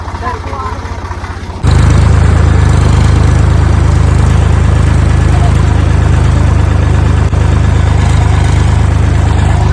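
A tractor engine drones loudly and steadily while driving home from the fields, a constant low rumble that jumps in level after a short quieter opening and stays unbroken throughout.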